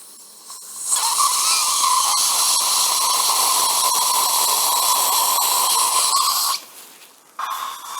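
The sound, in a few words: Dentis SQ dental implant drill enlarging the hole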